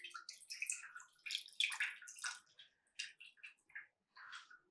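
Liquid poured while making Ugadi pachadi, a run of close splashing, trickling and gurgling bursts that stop and start over a few seconds in an otherwise quiet setting.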